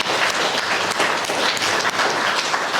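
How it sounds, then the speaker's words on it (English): A room of mourners at a funeral claps steadily, a dense, continuous round of applause that stays loud throughout. "I think those speakers deserve a round of applause"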